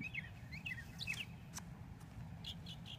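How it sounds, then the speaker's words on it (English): Scattered high bird chirps and short tweets over a steady low rumble on a golf course, faint and somewhat distant, with no voices. "you may hear birds"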